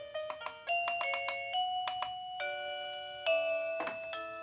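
A KooPower wireless doorbell chimes through a series of bright, clear melodies, each a quick run of ringing tones with short pauses between tunes, heard alone and fairly close.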